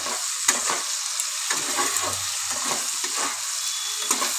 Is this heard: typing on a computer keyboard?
no